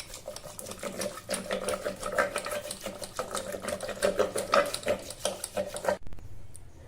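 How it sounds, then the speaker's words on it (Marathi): Cooked dal is mashed by hand in a pot, giving a steady, rapid wet churning and knocking rhythm close up, then it stops abruptly near the end. "हे व्यवस्थित शिजलं। आता आपण हे घोटून घेऊया।"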